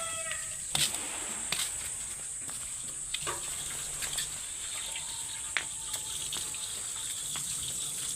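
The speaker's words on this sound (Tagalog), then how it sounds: "Malakas din pala gripo dyan, ano?" A faucet at a seaside provincial home runs strongly in a steady, fairly quiet rush of water, with a few knocks and clatters breaking through.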